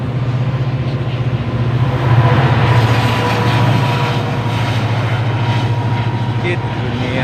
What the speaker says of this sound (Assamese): ট্ৰেইনখন চোৱা